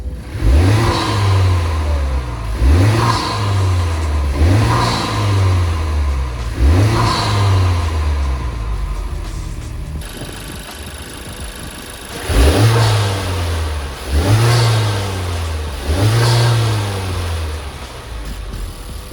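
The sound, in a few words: car engine revving with K&N intake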